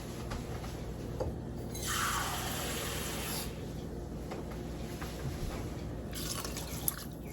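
Water pours steadily into a pan of washed lentils, a continuous splashing rush close by. It grows stronger near the middle, then trails into quieter trickling and splashes.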